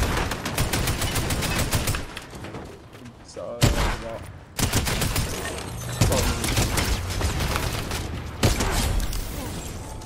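Rapid gunfire bursts in a shooter video game, with repeated loud volleys and sharp shots over a steady busy backdrop of game sound.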